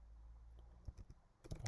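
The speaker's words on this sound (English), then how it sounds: "I can just type Python." Computer keyboard typing during a Python and Django coding session, a few soft scattered key clicks followed by a quicker burst of taps near the end, close but quiet, with no speech.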